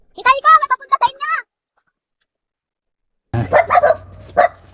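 Dogs bark in a quick burst of several loud, close yaps, then silence, then more barking mixed with a nearby voice.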